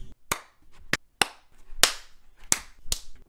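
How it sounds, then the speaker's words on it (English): Sharp hand claps for a clap intro, six distinct loud smacks spaced unevenly about half a second apart, close and dry with quiet gaps between. "can you help me do a clap intro?"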